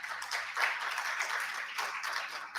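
Audience applause at a Honduran health forum on primary care, a steady patter of many hands clapping for a few seconds, moderately loud and continuous, with a faint murmur beneath.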